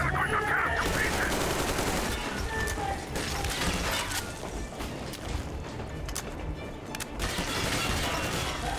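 Metro Exodus gunfire rattles in a dense, continuous barrage with clanking mechanical noise and crashes, loud and close, with a little talk buried under it.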